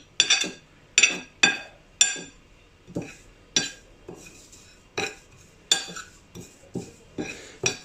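A spoon clinks repeatedly against a bowl while mixing turmeric, dried fenugreek and other spices, sharp metallic taps coming in a steady uneven rhythm, close and clear with no talking.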